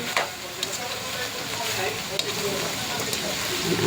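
Food with sesame oil sizzles in a pan while being stirred, a soft continuous frying hiss with light scraping strokes and small clicks, fairly quiet and close.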